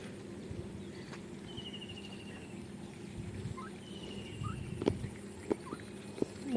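Turkeys gobble in a backyard poultry pen, a few brief calls rising above low rumbling background noise, with some knocks and bumps toward the end.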